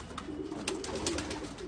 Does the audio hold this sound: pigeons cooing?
yes